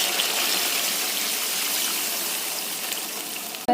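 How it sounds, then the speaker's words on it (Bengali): Water pours steadily into a pan of curry of pointed gourd, potato and rupchand fish, a continuous splashing gush lasting nearly four seconds before a sudden stop. "এবার জলটা ঢেলে দিচ্ছি"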